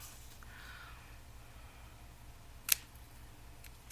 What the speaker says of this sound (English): My scissors out and trim off the excess.